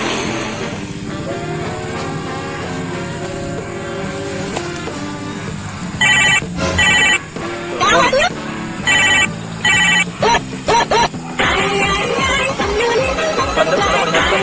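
Telephone ringing in short repeated bursts during a comedy sketch, fairly loud over a busy background of music and rumbling vehicle noise, with people talking around it.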